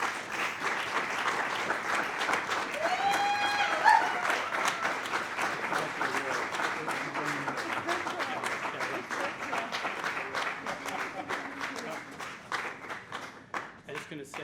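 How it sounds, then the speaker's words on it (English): Sustained audience applause for a digital media pioneer award winner at an opening celebration, dense clapping from a large crowd that holds steady for many seconds, with a brief voice or whoop near the start, then thins slightly toward the end. "Round of applause, everyone."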